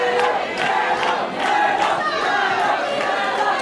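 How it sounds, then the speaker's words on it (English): Loud, dense roar of a packed wrestling arena crowd cheering and shouting without letup, voices swelling in waves throughout. "The crowd is unbelievably hot right now."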